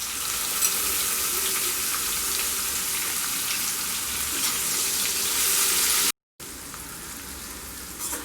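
Sliced onions fry in oil over a medium flame with cumin seeds for a Bengali fish head pulao, giving a steady, dense sizzle that holds throughout, broken only by a brief gap near the end.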